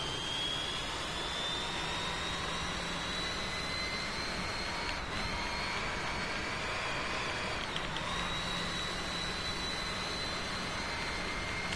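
Car engine in the Driveclub racing game, a steady loud whining drone with a high tonal note that dips twice, continuous and unchanging throughout with no talk.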